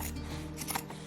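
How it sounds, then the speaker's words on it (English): Scissors snip through fabric while trimming a seam allowance on a scrap-fabric lined drawstring bag, a brief, close, soft crunching cut. "make sure you trim your seam allowance for this"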